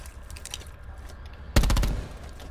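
Burst of rapid video game gunfire as an enemy pre-fires in a 2v2 match, a loud sudden volley of close shots that cuts through quiet ambient game sound and fades out over a second.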